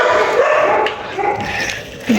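Several neighbourhood dogs barking and yelping at a stray dog that wandered into their area, heard from inside a moving bus, the barks mixed into loud engine and road noise.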